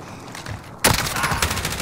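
Gunfire in Call of Duty: Modern Warfare on Rebirth Island, a quiet stretch broken by a sudden loud burst of rapid automatic shots that keeps rattling on up close.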